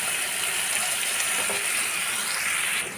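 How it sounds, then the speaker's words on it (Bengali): Marinated small fish sizzling in hot oil with whole-spice tempering, a steady loud hiss that runs throughout and eases slightly at the very end. "ফোড়ন থেকে একটা সুন্দর গন্ধ বেরোলে দিয়ে দেব ম্যারিনেট করা মাছগুলো।"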